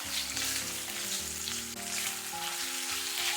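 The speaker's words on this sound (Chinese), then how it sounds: "油热之后，把五花肉给它倒进来，开中火，不停地给它煸炒" Pork belly stir-frying over medium heat in a little oil in an old clay pot, a steady, close sizzle with faint scraping of stirring, running continuously without pause.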